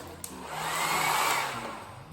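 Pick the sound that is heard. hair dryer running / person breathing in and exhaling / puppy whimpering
hair dryer running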